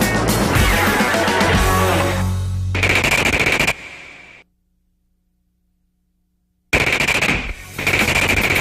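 Canadian tank troop weapons fire on a range: long bursts of rapid machine-gun fire, loud and close, break off into a few seconds of silence, then resume with more heavy bursts.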